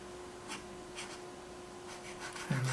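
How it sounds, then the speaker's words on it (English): Pencil sketching a car design on paper, soft intermittent scratchy strokes in short bursts against a faint steady hum, close and quiet, ending with a small tap. "And then what I start to do is I sketch, right, within these limitations."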